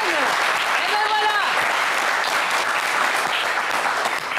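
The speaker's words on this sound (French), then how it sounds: "On va vous applaudir très fort." A studio audience on a French game show applauds a finalist with loud, dense clapping that holds steady throughout. A host's voice rises briefly over the ovation at the start.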